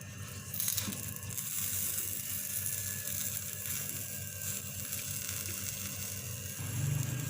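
A chicken chapli kabab wrap toasts in a pan with a couple of drops of oil, giving a steady, soft sizzle under a constant background hum, with a few faint clinks and a slight swell near the end.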